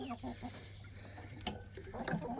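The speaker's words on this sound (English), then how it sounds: "We have the egg laying hens on the top." Egg laying hens in a coop cluck in soft, repeated short calls over a low steady hum, with a few sharper clucks and rustles nearby.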